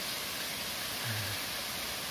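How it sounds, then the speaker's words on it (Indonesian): Gently flowing water of a stream at Batu Manrusu, a steady broadband rush heard alone and fairly faint, with a brief low hum partway through. "jadi yang ada cuma air mengalir, bukan air terjun"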